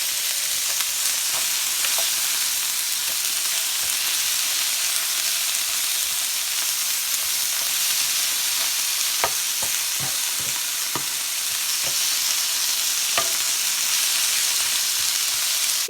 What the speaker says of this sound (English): So I'm going to stir fry this until this is almost done.